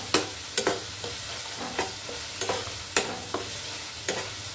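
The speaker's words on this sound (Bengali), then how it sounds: "এখন এটাকে ভালোভাবে ভেজে নেব। মশলা যত কষাইবেন তত মজা লাগবে।" Chicken curry masala with tomato frying in a pan, a steady bright sizzle with repeated scraping stirs of a spatula, close and continuous, no talk.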